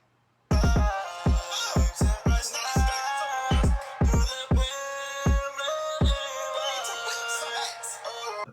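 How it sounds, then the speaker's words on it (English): A distorted kick drum from a drum kit punches in an irregular trap pattern, each deep, boomy hit sliding down in pitch under sustained bright melodic backing, loud and upfront with no voices. "The kick sounds like this."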